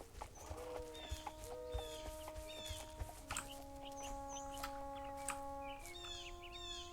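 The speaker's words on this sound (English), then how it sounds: "I hear a horse and buggy." A horse and buggy in the walking game Walden: faint clip-clop hoof beats and rolling rumble beneath a rural soundscape of chirping birds and clucking chickens, with steady tonal hums throughout.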